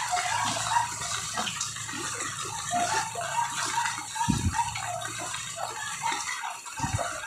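Floodwater rushes and gushes through a housing subdivision in Imus, Cavite, a loud, continuous churning flow with a couple of heavier splashes, with no talking.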